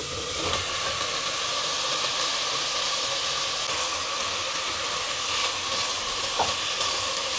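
Onion, garlic and a little chicken sizzling in a pan for a squash vegetable dish, a steady hissing fry with faint clinks, even and unbroken throughout with no talk.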